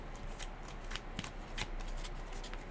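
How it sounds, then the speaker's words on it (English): Playing cards from a Keyforge Adventures deck are shuffled by hand in a quick run of crisp riffling flicks and soft slaps, close and alone for a couple of seconds. "So let me just kind of shuffle here."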